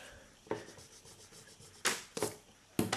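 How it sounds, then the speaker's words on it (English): An eraser rubbing out a pencil line on paper, soft scratchy strokes that are quiet and close, with a few sharper scrubbing bursts near the end. "There's no need to rub it out, I'm going to rub it out"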